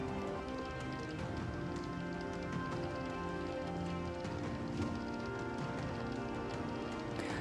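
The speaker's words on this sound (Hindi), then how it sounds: "चक्रवात मिचोंग के तमिलनाडु तट के करीब पहुंचने से चेन्नई के कई एक हिस्सों में तेज भारी बारिश हुई है" Heavy rain falling in Chennai as Cyclone Michaung nears the Tamil Nadu coast, a steady dense hiss of downpour spattering on surfaces throughout, with no voices.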